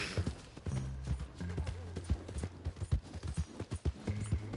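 Horse hooves clip-clop in Red Dead Redemption 2, a steady run of sharp, close hoof strikes with a low tonal game hum underneath.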